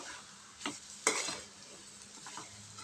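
Beetroot vegetable dish being stirred in a pan, a couple of scraping strokes with a soft sizzle underneath, close and moderate in level, no talking.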